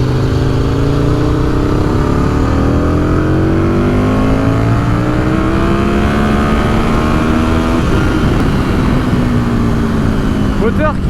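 A 2003 Aprilia RSV 1000R motorcycle engine pulling hard under acceleration, its loud rising drone sweeping upward through the revs with a brief drop near the end, steady and close throughout.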